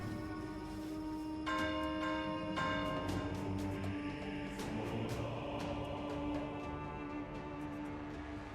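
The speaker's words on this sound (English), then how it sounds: "What was ringing the bell supposed to do?" Church bell in the video game Warhammer: Chaosbane rings with repeated resonant strikes whose long ringing overtones overlap and sustain above a low droning game ambience, with no talk over it.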